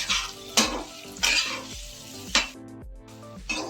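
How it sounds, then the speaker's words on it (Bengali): Paneer frying with salt in a pan, stirred by hand: a constant sizzle with sharp spatula scrapes and clinks landing at an uneven rhythm, close and clear. "এবার ভালো করে নেড়ে নিচ্ছি।"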